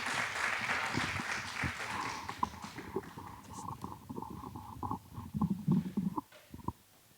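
A poetry slam audience at a regional final applauds the poets: a dense burst of clapping at first that thins into scattered, fainter claps, with no talk over it.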